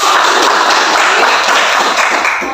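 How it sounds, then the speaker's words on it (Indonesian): A class of students clapping their hands in applause, a dense steady burst of many claps close by, fading slightly at the end. "Baik, tepuk tangan dulu buat semuanya."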